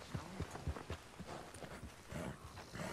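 Horse hooves clip-clop in a steady, uneven walking rhythm in a Red Dead Redemption II game scene, with several soft thuds at moderate distance under faint background ambience.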